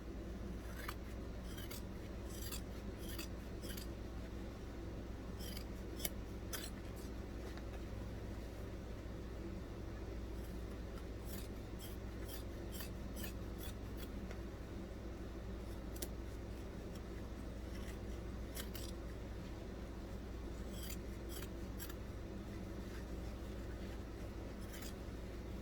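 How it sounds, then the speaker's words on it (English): Scissors cutting around a fabric bag pattern, repeated faint snips and crisp clicks over a steady low background hum. "And then I'm going to cut around about 1/4 of an inch."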